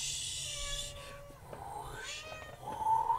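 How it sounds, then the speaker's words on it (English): A cat yowls in drawn-out, wavering cries, fairly faint against a low background hum, with the calls rising toward the end. "the cat is like screaming in the background"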